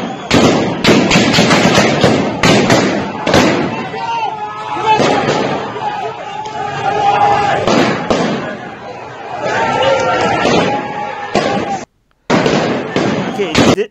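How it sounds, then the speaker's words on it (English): Sharp bangs crack out repeatedly amid crowd noise and shouting at a street protest in Iran, bursts of rapid reports that could be gunfire or firecrackers, with a brief silent gap near the end. "I can hear gunshots"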